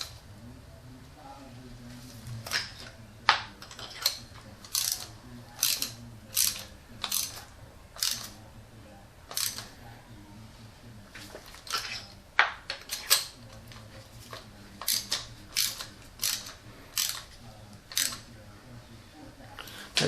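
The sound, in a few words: ratchet torquing down spark plugs on Lexus ES300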